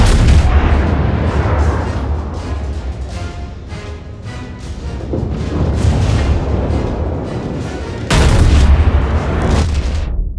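Battleship main guns fire in a naval combat game, heavy booming salvos rolling continuously with dense low rumble, a fresh loud broadside erupting near the end.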